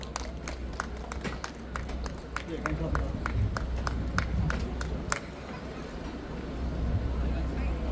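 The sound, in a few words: audience clapping in welcome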